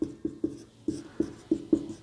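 Notes being written by hand during a geography lesson, about nine crisp, evenly spaced pen taps and strokes at close range, quiet and alone.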